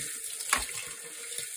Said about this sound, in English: So just basically rinse all your bandana pieces until the water runs clear.